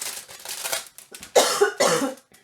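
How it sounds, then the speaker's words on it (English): A person with a bad cold coughs close by, several harsh, rough coughs in quick bursts with brief pauses between them. "Sorry for the coughing."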